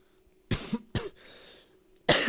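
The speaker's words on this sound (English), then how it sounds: "I've had this really bad cough for like 6 weeks now." Several harsh coughs close to the mic: two quick bursts, a short raspy throat-clearing rumble, then another loud cough after a pause.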